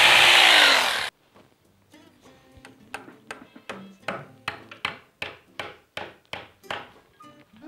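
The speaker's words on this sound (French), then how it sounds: "on va fixer la pierre maintenant avec des chevilles à frapper" Hammer-in wall plugs are driven into stone while fixing wall paneling: after a brief loud burst of noise, about a dozen sharp, evenly spaced hammer strikes ring out close by.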